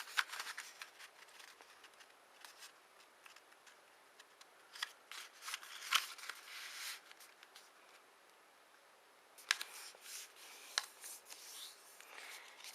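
Origami paper folded in half for a Valentine's heart with wings: soft, close crinkles, rubs and creasing swipes in scattered bursts, fairly quiet and alone.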